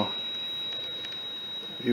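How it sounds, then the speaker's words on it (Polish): A Satellite Finder meter gives a steady, high-pitched continuous beep as a satellite dish is aligned to Astra, sounding throughout over faint background noise, with a voice starting briefly at the end. "Jest pisk. To znaczy, że jest ustawiona antena idealnie na astrę."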